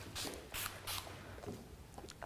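Creation Spray is misted onto layered hair as short, soft hissing bursts. Three quick sprays come close together, then fainter puffs follow in a quiet room.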